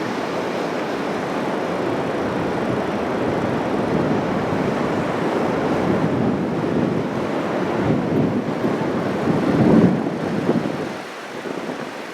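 Wind and ocean surf on the beach at Tofino, a continuous broad roar of breaking waves and gusting wind buffeting the microphone, swelling briefly near the end.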